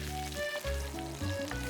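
Salmon steak frying skin-side down in a pan to crisp the skin, a close, steady sizzle with a few soft clicks and shifts.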